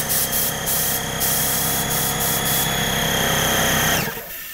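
A quiet tankless Werther & Fiac air compressor runs steadily with a close, even mechanical hum and whine for about four seconds, then shuts off and winds down abruptly near the end.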